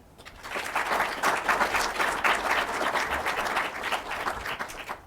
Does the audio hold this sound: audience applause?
yes